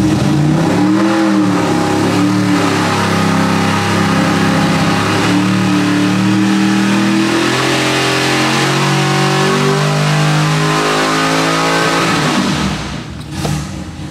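A 1,000 hp 632-cubic-inch Smeding big block Chevy V8 revs on an engine dyno during a tuning pull, a loud, close, sustained roar climbing steadily in pitch, then cutting off abruptly near the end.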